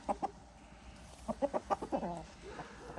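Hens clucking close by in a backyard flock, a burst of short rhythmic clucks with a pause, then a quicker run of clucks trailing into softer murmurs.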